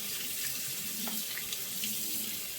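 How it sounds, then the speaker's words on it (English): Tap water runs steadily into a sink over a pound of green split peas being rinsed, a continuous close splashing hiss with no talking. "I'm going to run some water over them, get them rinsed off well."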